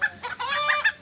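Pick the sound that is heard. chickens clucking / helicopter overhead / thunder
chickens clucking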